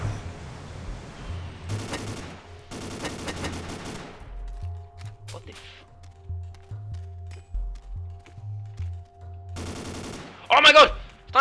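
Gunfire in the video game Ace of Spades: several rapid bursts of sharp shots in quick succession, loud and close, separated by quieter game noise, with a player's voice briefly heard.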